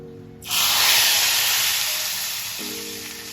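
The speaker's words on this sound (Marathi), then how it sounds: "आता ही मस्त जमून आलेली फोडणी भाजीवर ओतूया" Hot tempering of oil, asafoetida and red chillies poured onto cooked colocasia-leaf curry (aluchi patal bhaji) bursts into a loud, sudden sizzling hiss that gradually softens, with no talking.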